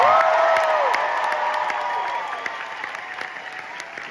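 Enthusiastic theatre audience applauding at the final curtain call of Come From Away on Broadway, a dense wall of clapping with scattered whoops and cheers that fades gradually over a few seconds.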